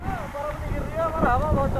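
Cold wind blows at the Bhursingh Mahadev mountain temple in Himachal Pradesh, a steady, rumbling wind buffeting the microphone while someone talks over it throughout.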